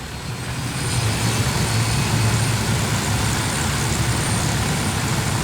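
A helicopter in Ghost Recon Wildlands flies with a steady, loud broadband rotor and engine roar, holding constant throughout with no voices.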